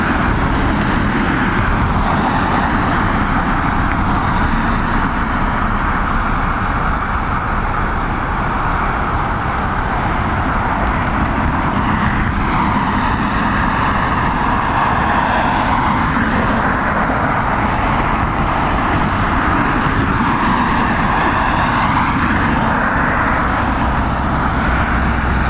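An Aer Lingus airliner taking off from Dublin Airport bound for Heathrow in stormy crosswind weather, a loud sustained jet roar mixed with rushing wind that holds steady for the whole stretch, with no voices.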